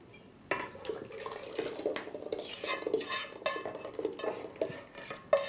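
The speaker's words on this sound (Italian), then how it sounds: "Che bel rumore quando viene rovesciato" A thick, hot cake mixture slides and splats into a bowl, with scraping and clinks of a utensil against the dish, close and fairly quiet.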